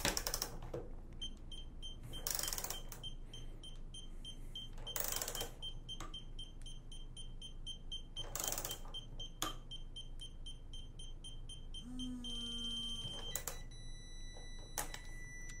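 An Atlas Copco STwrench gives short electronic beeps and alert tones when 25 newton metres of target torque is reached on a bolt, heard as several separate bursts over a quiet background.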